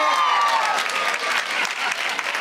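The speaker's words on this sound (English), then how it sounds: "Clap your hands." Dense applause from a live comedy audience, loud and steady for the full stretch, with a few cheers mixed into the clapping.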